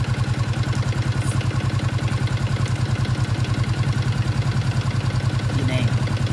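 A Yamaha Exciter motorcycle engine idles steadily and close, a continuous low rhythmic putter with no voices, running while charging voltage is being tested.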